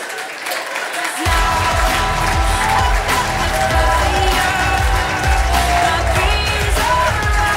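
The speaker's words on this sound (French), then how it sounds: "On peut encore les applaudir, s'il vous plaît." Sustained audience applause fills a university doctoral graduation ceremony hall, a dense, loud, steady clatter of many hands that begins abruptly after a quiet second and continues unbroken with a few faint voices mixed in.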